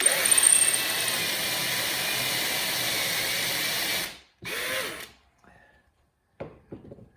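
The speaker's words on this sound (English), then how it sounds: "so it doesn't move while I drill it" A power drill whines steadily for about four seconds while drilling holes in wood, then stops; a short second burst follows, with a few faint knocks and handling sounds afterward.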